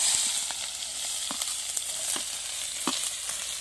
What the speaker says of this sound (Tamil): இப்போ வெங்காயத்தை போட்டுப்போம்.